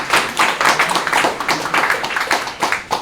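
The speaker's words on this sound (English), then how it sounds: "That was a clap to everyone." A group of people clapping at a visual thinking meetup, a run of separate sharp hand claps in an uneven rhythm, fairly close and clear with no voices.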